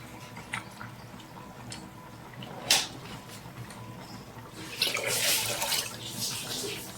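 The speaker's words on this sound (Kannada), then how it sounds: "ಇದಕ್ಕೆ ಎಷ್ಟು ಬೇಕಷ್ಟು ನೀರು ಹಾಕ್ಕೊಂಡ್ಬಿಡ್ತೇನೆ." After some faint clatter and a sharp knock, water pours steadily into a pot for a couple of seconds, splashing and gurgling up close.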